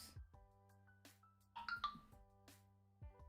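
A phone ringtone sounds loudly indoors, a melodic tone pattern that plays in short bursts over steady background music, repeating a few times across the moment.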